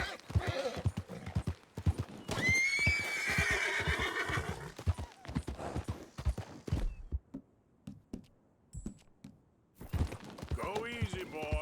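A video game horse whinnies loudly over galloping hooves, followed by a brief pause, then more hoofbeats and a second shorter neigh.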